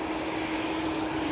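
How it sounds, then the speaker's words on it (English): EasyJet airliner departing Manchester Airport for Palma de Mallorca: a brief, steady jet engine roar with a strong low hum, heard alone at moderate distance. "Off to Palma de Mallorca, we have this EasyJet A380-200"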